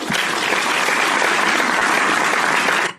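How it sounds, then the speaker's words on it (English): A short burst of even, dense applause that cuts off abruptly at the end, with no voices over it. "Round of applause for everybody in the chat today."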